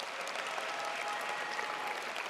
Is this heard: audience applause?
yes